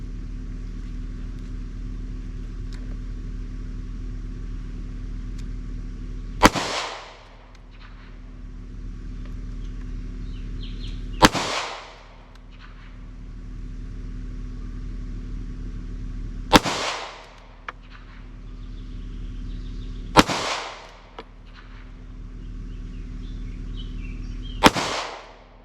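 Five pistol shots fired with the weak hand at an outdoor range during a dot torture drill, sharp loud cracks spaced several seconds apart, each followed by a short decay over a low background hum.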